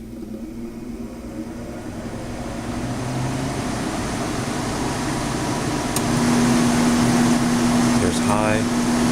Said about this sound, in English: Only the fan is running at the moment.